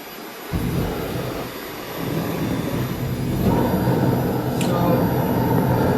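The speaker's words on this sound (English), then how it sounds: "and then we're going to ignite this bad boy." A small jet engine spools up into a loud, steady roar that builds in stages, with a brief high whistle near the end.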